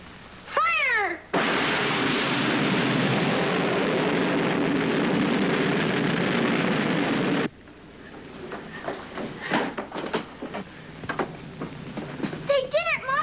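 Rocket launch effect in a radio drama: a loud, steady roaring rush of noise bursts in and holds for about six seconds, then cuts off abruptly, followed by excited voices.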